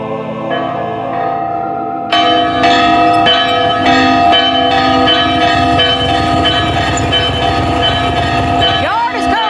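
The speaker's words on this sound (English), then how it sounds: "I'm positive it's used to ring the bell on the roof." A church bell on a roof rings out in a point-and-click adventure game, sustained bright tolling with rich overtones layered over a rumbling, train-like background that starts loud after a quieter opening.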